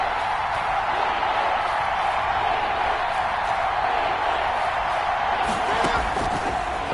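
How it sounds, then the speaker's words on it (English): Steady, dense roar of a stadium crowd in a video game football broadcast as a big third down approaches, a constant wash of cheering and noise at even loudness throughout, with a few faint thumps near the end. "The crowd getting into it as we come up on a big 3rd down."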